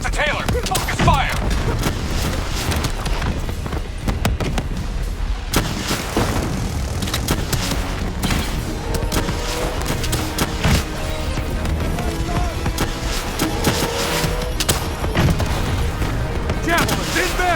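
Continuous heavy gunfire and booming explosions in a Call of Duty Black Ops 3 boss battle, loud and dense throughout, with voices shouting over the combat.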